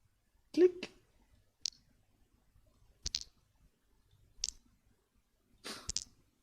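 Dice sound effect from an Unreal Engine multiplayer minigame: a handful of crisp, isolated clicks spaced about a second or more apart over near silence.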